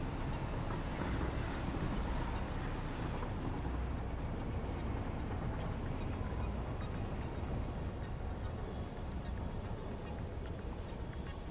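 Steady low rumble and rolling clatter of a train moving along a railroad in the video game Satisfactory, continuous and fairly quiet with no talking.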